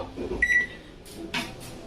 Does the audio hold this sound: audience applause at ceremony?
no